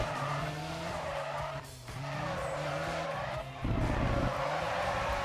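Car tires skidding hard with the handbrake pulled in a racing video game, a loud continuous squeal over engine roar that dips briefly and then surges back, with no talking.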